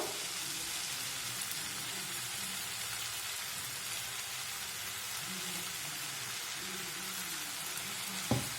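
Broad beans fry in a pan as peanut-garlic powder is mixed in, giving a steady, dense, rain-like sizzle throughout, close and even, ending with a single sharp knock.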